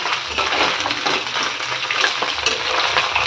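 A fish head fries in hot oil in a home kitchen with a dense, continuous sizzle and occasional stirring scrapes, heard up close with no talk.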